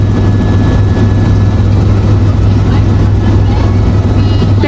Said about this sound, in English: sheltered patio from which you can comfortably view our helicopters at work.